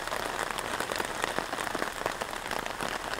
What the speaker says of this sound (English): Well, it's coming down in buckets.